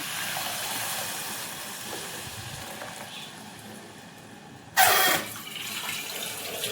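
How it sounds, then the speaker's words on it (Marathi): Buttermilk poured into a pot for Maharashtrian dahi kadhi, a sudden loud splashing pour lasting under a second against a quiet kitchen hiss. "नंतर ताक ओतायचं"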